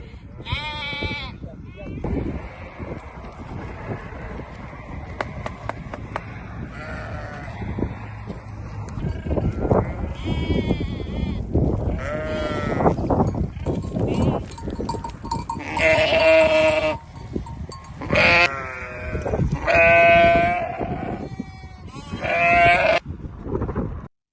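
Suruç sheep, a breed native to Şanlıurfa, bleat repeatedly in a flock, several overlapping calls near and far, under someone speaking over most of the scene.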